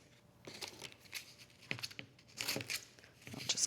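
Scissors snip and cut through a paper blouse pattern during an alteration, giving quiet, close, irregular bursts of crisp paper rustling and crinkling.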